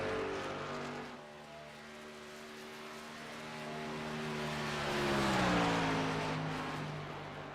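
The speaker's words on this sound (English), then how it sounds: "Just realized my truck sounds are way too loud." Racing truck engines in a sim racing game's Fortuna Iron Truck Series race howl with layered harmonic whine, pitches sliding down then climbing as the engines swell louder mid-clip and fade slightly at the end.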